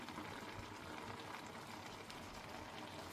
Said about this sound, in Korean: 이렇게 넣어서 한 5분 정도 더 끓여 주도록 하겠습니다